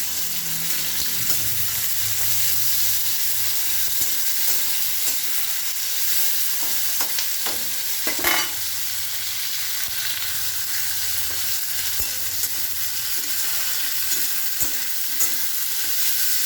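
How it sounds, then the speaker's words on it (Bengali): Onions fry in hot oil while being stirred, a constant loud sizzle with scattered scraping clicks and taps from the spoon, close up and without talk. "আমার তেল গরম হয়ে গেছে। এবার আমি একে একে সমস্ত সবজিগুলো ভেজে নেব। তো দেখুন আপনারা কেমনভাবে করি। তো দেখুন বন্ধুরা, সবার আগে আমি পেঁয়াজ দিয়ে দেবো।"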